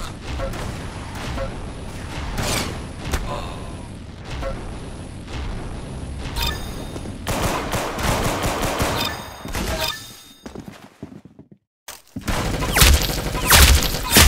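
Rapid bursts of gunfire and blasts in a video game, dense volleys with brief lulls and a short near-silent gap, then loud firing resumes.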